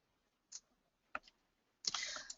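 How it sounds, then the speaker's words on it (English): A computer keyboard and mouse give a few sharp separate clicks, then a denser burst of quick clicking at the end, close and quiet in an otherwise silent room. "I'm hitting the delete key on my keyboard, and that portion of the arc is gone"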